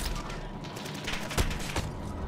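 Gunfire in Call of Duty: Modern Warfare, a rapid stream of clipped shots with two louder bangs standing out near the end.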